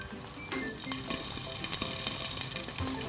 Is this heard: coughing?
no